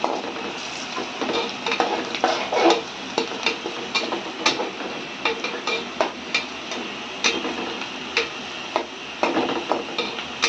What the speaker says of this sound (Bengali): এখন আস্তে আস্তে নাড়াচাড়া করে পেঁয়াজটা সুন্দর মতো লাল হোক।